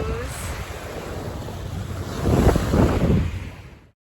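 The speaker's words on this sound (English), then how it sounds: "Good morning from Stuff's Beach on Nantucket." Wind and surf at a beach on Nantucket, a continuous rushing roar of wind noise with a swell of breaking wave sound swelling near the end before cutting off.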